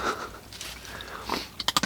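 An animal crunches a pistachio shell near a survival shelter, ending in a quick run of five or six sharp, close cracking bites after a quieter stretch of faint rustling.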